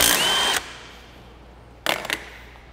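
A power tool spins out 14 mm bolts from a Toyota car seat. It starts with a loud half-second whirring burst, falls quiet, then a few shorter, choppy bursts follow close up.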